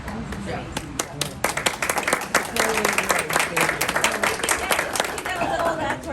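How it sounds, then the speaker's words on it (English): At a borough council meeting, a room of people breaks into a round of applause, with dense, uneven clapping that builds and carries on steadily, and voices murmur through it. "they really deserve a huge round of applause"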